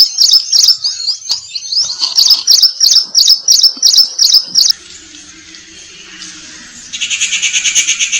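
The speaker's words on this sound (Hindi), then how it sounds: "विश्व में सबसे अधिक पाए जाने वाले पक्षियों में से एक है गौरैया, जो कि आमतौर पर घरेलू प्रजाति मानी जाती है।" House sparrows chirp in loud, rapid repeated calls, a rhythmic run of bright chirps close by, then quieter background before another fast burst of chattering calls near the end; no speech.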